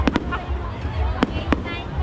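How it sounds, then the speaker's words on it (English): Fireworks exploding at a Filipino fiesta: a quick pair of sharp bangs, then two more spaced booms, fairly close, over crowd murmur and talk. "Let's watch the fireworks from here."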